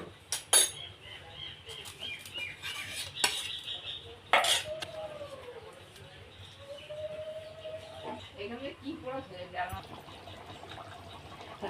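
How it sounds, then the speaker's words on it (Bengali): Potatoes and paneer stirred in a cooking pot, with a few sharp metal spoon clinks and scrapes against the pot, faint bubbling between them, and someone speaking quietly over it. "নাড়িয়ে দেখছি আলুটা সেদ্ধ হয়েছে কিনা।"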